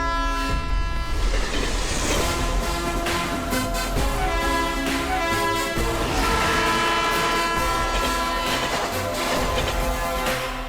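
Approaching train in a Hindi-dubbed South Indian action film: a loud, steady roar of wheels and rolling cars under a sustained horn, building and holding close for about ten seconds.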